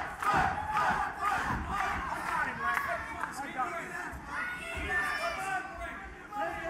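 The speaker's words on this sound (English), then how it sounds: "And listen to this crowd." A pro wrestling crowd roars and shouts during a match, loud rowdy cheering and chanting swelling in waves with overlapping voices throughout.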